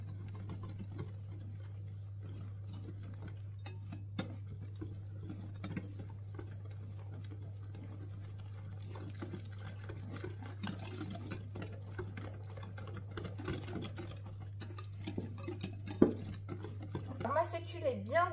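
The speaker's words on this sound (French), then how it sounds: "Et je mélange un petit peu." Cheesecake batter with eggs being mixed for a gluten-free, lactose-free raspberry cheesecake gives soft, irregular clicks and scrapes of a utensil in a bowl. The sounds run close and faint over a steady low hum, with someone speaking now and then.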